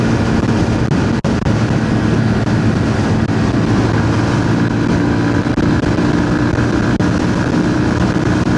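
A Beta Alp 4.0 motorcycle engine cruising at about 75 to 80, loud, steady droning engine note with wind rush, heard from the rider's position, continuous with no talking.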